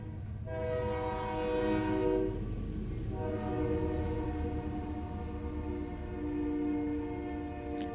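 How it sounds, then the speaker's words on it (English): A train passes close by, sounding a long, loud horn with steady tones that hold for several seconds over the rumble of rolling wagons. "Even in the kitchen, you can hear the train."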